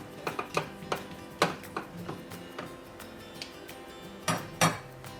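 Angel hair pasta stirred into soup in a pot, with a utensil clinking and scraping against the metal in irregular, close taps and a couple of louder knocks.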